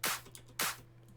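Two layered clap samples, a clap stacked with a clap from an ultrasonic sample pack, strike twice in quick succession, each a crisp bright snap with a short tail, close and alone.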